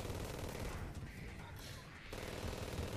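Rapid bursts of Terraria gunfire crackle steadily, briefly easing in the middle before resuming at full loudness.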